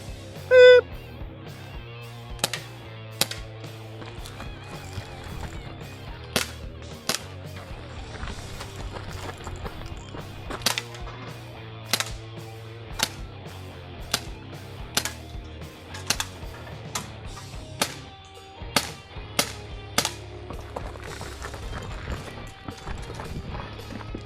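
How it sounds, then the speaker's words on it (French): Pistol shots at a shooting practice, a series of sharp loud cracks, roughly fifteen shots spaced irregularly at about one to two second intervals, standing out clearly against quiet background noise. "C'est de même qu'on s'entraîne au pistolet, les boys."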